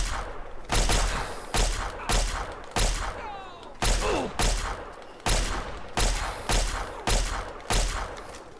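Gunfire in Fallout 3 comes as a string of about a dozen loud, evenly spaced shots, each one followed by a short decaying echo, with no talking over it.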